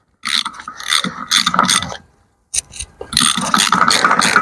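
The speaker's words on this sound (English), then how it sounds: "I'm going to put the Allen key in there with a ratchet on it" A ratchet turns an Allen key on the front suspension of a BMW E92 3 Series. Loud, close, rapid clicking comes in several bursts, with a short silent pause in the middle.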